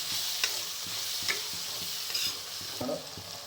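Tomatoes sizzle gently in a pan for chicken fry while a spoon scrapes and taps in a steady rhythm, about two strokes per second, close-up with no voices.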